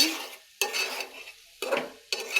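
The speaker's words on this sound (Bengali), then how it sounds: "এই ডালগুলোকে মশলার সাথে কষিয়ে নিব" Lentils are stirred and fried with spices in a pan. Four distinct scraping strokes of a spoon are heard over a soft sizzle, with brief quiet gaps between them.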